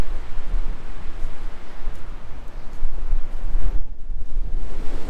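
Strong wind roaring steadily across open ground near mountains, a loud, continuous broadband rush with gusty swells and a brief lull near the end, close to the microphone with no voices.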